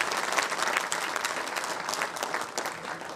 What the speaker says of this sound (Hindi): आदरणीय श्री अश्विनी वैष्णव जी के लिए जोरदार तालियां बजनी